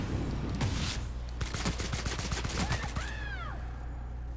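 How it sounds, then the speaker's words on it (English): Gunfire in The Outer Worlds, a rapid string of sharp shots over a steady low game hum, followed by a few sweeping whooshes near the end. "we're gonna just shoot this guy"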